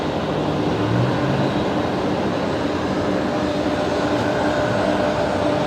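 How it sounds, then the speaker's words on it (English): A Fokker aircraft approaches at Brisbane Airport at night, a loud, steady broadband engine roar holding without a break across the whole stretch. "I think there's a Fokker coming our way as well."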